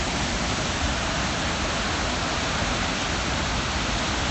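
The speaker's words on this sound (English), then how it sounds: "crazy water release." Flood water pours in a controlled release from a hydroelectric reservoir in north Taiwan after Typhoon Dujuan, a loud, unbroken roar of rushing water with no pauses or other sounds.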